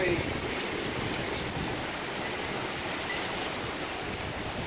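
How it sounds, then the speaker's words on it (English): Heavy rain pours down in a steady, dense hiss during a lightning storm over a backyard, a constant wash of sound with no breaks. "Look at the downpour out there, by the way."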